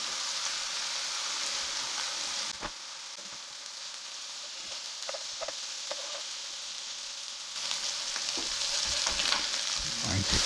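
Beef slider patties pressed with onions sizzle steadily in a hot pan, a close, continuous frying hiss that dips briefly, then rises again, with occasional spatula scrapes and pops and no talking.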